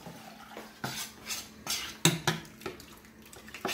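A spoon scraping and knocking around a pot of Jamaican cornmeal porridge being stirred, with repeated clattering strokes at an uneven rhythm, close and moderately loud, no talking.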